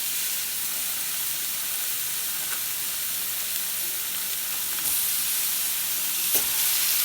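Burgers sizzle on a hot griddle in extra virgin olive oil over high heat, a steady close hiss of frying with a few faint clicks of handling.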